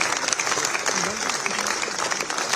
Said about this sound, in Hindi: मंत्रियों ने तालियों के साथ पीएम मोदी का स्वागत किया।